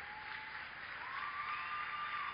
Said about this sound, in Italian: vorrei invitarvi a fare un applauso ad alzarvi